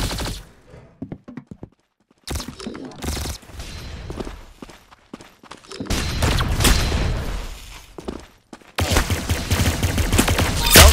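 Gunfire in the Roblox shooter Arsenal comes in bursts, with quieter stretches and brief gaps giving way to loud dense volleys of rapid shots, some footsteps, and faint game sounds in between.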